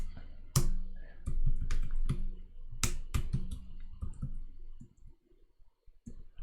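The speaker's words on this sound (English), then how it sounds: "I'm not very good at typing" Fingers type on a computer keyboard, with sharp, irregular clicks and key thumps in quick bursts that thin out toward the end. The typing is close and fairly loud, with no talk over it.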